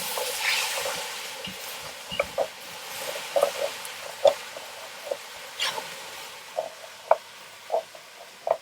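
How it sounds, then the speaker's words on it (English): A beef bourguignon pan is deglazed with wine, giving a quiet bubbling sizzle with scattered sharp pops and crackles in an irregular rhythm, close by and with no talking. "So I'm just going to deglaze the pan first."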